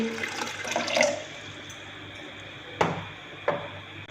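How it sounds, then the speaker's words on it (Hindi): Water is poured into a kitchen grinder jar to start a falsa sharbat, with a short splashing pour at the beginning followed by a couple of sharp clicks of the jar. "सबसे पहले मैं ग्राइंडर में थोड़ा सा पानी लूँगी।"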